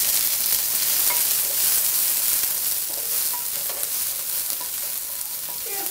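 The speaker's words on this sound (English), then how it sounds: "Stir fry for about 30 seconds." Garlic and ginger stir-fried in a hot pan for fried rice, a loud continuous crackling sizzle close by with faint scraping of the utensil, no talking.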